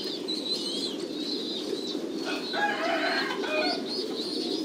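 Young breeding pigeons housed with their mother on a pigeon farm give soft cooing calls over a steady background hum, with some brief bird chatter and possible wing movement, fairly faint and continuous.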